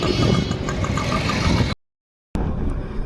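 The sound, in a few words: motorcycle engine while riding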